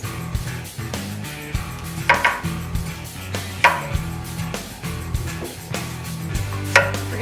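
A knife cuts zucchini and summer squash in half on a cutting board, a series of firm, irregular chops and thuds with light clinks, close and distinct with no talking.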